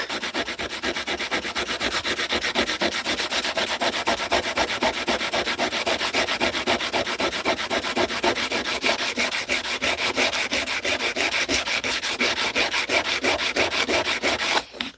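A knife blade is sanded by hand with steady, rapid back-and-forth rubbing strokes, continuous and close for the whole stretch, with no voices.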